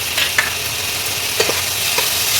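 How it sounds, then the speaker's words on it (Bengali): Already-fried potatoes go into hot oil in a pan for a panta bhat dish, giving a steady, close sizzling hiss with a few soft stirring clinks and no talking. "এবার আমি এতে ভেজে রাখা আলুগুলো দিয়ে দিলাম।"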